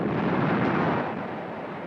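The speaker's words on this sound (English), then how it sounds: "Grozny was pounded by artillery in the hours before the attack." Artillery shelling pounds Grozny during the Chechen war, heard as a dense, rolling boom that swells and then fades into a long distant rumble.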